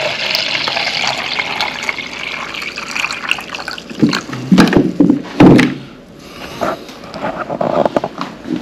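Water runs into a 32-ounce steamer bottle already holding a BioBomb mini cleaning tablet, a steady close pour that swells into a louder splashing gush midway before easing off.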